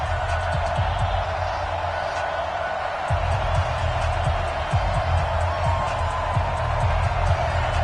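Stadium crowd noise in an EA Sports NFL video game before a London Bulldogs versus Pittsburgh Steelers matchup, a steady loud roar of cheering with low thumps throughout and no clear talk.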